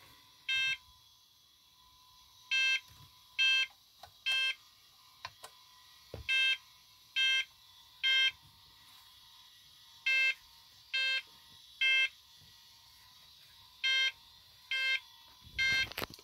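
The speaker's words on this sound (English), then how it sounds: "the beeper is working" Beeper on a vintage computer sounding a series of short, evenly pitched electronic beeps at irregular intervals, clear and close, with no talking.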